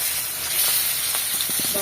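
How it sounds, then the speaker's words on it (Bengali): Fish sizzles and hisses steadily in hot oil in a home kitchen pan, a close, continuous frying crackle with a few brief clicks of utensils. "এখানে যে মাছটা ভাইজে নিচ্ছে,"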